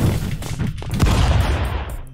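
Rapid gunfire bursts from the stick-figure brawler Stick Fight, with dense overlapping shots and impacts forming a loud, continuous barrage for about two seconds.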